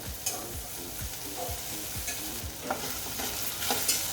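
Baby corn chilli being stirred and fried in a pan with white sesame seeds, a steady sizzle broken by repeated scraping stirs of the spatula, close and fairly quiet, with no talking.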